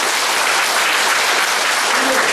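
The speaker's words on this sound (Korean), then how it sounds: "이 가정 한번 박수 한번 해주시고." Church congregation at a memorial dedication service breaks into loud, sustained applause, a thick uniform wash of clapping filling the whole moment.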